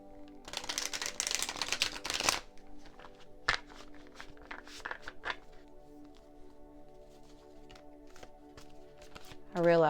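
Tarot cards being shuffled at close range, a dense burst of riffling and flapping for the first couple of seconds, then scattered soft card taps and handling noises over a faint steady hum.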